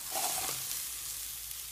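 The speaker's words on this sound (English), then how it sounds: "throw my veg in the pan" Vegetables and precooked potatoes sizzle in a pan with a soft, steady hiss, briefly stirred at the start, fairly quiet and with no talking.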